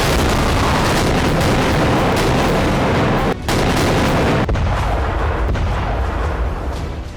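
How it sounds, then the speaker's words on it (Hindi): Night rocket attack in Nagorno-Karabakh, a sustained roar of heavy blasts and rumbling that fills the clip, loud and dense, with a brief dip partway through before the barrage continues. "रात के अंधेरे में अजरबैजान ने जबरदस्त रॉकेट अटैक किया"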